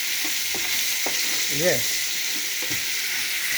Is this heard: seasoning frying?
yes